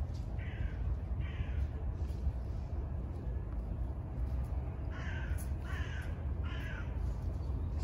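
Crows caw repeatedly in loud bursts beside a park pond, calling in pairs early on and again in a cluster near the end over steady outdoor background noise.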